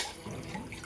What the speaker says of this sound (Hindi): तो यहाँ पे है हमारी टैंकी और इसका खोल देती हूँ मैं नलका।